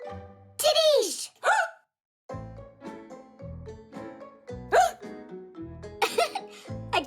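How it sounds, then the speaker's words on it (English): Cartoon characters hiccup repeatedly, sharp squeaky yelps with rising and falling pitch that come in irregular bursts over about seven seconds, mixed with other vocal noises and a short pause. "I guess the hiccups are contagious"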